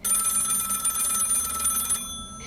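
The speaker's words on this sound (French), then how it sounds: "j'ai entendu mon téléphone fixe sonner peu avant minuit" A landline telephone rings loudly and close by for about two seconds, its bright electronic tone steady, then cuts off into near silence with only a faint trailing tone at the end.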